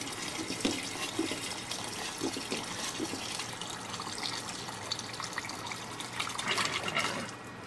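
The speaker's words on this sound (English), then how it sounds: "it's time to add water" Water pours from a container into a pot of mushrooms and carrots being cooked for Japanese curry, a steady splashing gush that swells toward the end before tapering off.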